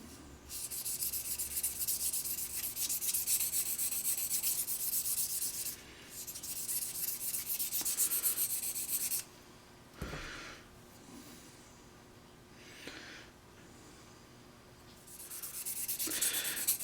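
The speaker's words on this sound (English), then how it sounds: "I'm going to just sort of lay the scissor blade on the stone and with it flat on the stone" Scissor blade laid flat and rubbed back and forth on a 600 grit sharpening stone to remove the burr, a steady close gritty rasping in long strokes with short pauses between passes, no talking.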